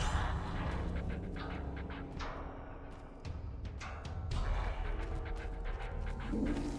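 A dog companion in Fallout: New Vegas Dead Money pants steadily in quick breathy rasps, mid-distance, under a constant low game ambience that swells and dips.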